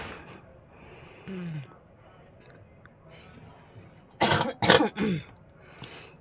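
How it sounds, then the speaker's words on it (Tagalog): A few harsh coughs burst out close by, one after another, with a quieter throat sound earlier in a mostly hushed setting. "sorry guys, umubo ako"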